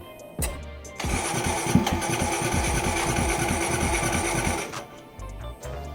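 A motorcycle engine starts and runs with a loud, rapid, uneven chugging beat for several seconds, then cuts back down to quieter background noise.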